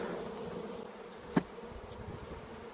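Honey bees buzz around an open hive during a honey harvest, a soft continuous hum close by with one brief louder knock partway through.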